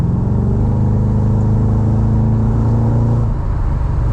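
A 1999 BMW 840Ci E31 engine rumbles loudly and steadily up close, echoing among trees, its low drone droning on with a slight change in pitch near the end.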